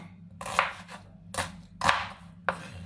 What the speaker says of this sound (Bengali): ওকে একটু মোটা মোটা করে কেটে দিচ্ছি কারণ এই মরিচগুলো না অনেক ঝাল